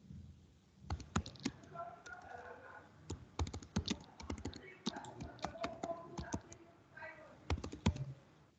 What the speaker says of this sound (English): can I type?